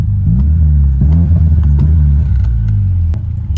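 A car with a newly completed custom exhaust revs up close and loud, its deep burbling exhaust note rising and falling through several blips over a steady low rumble.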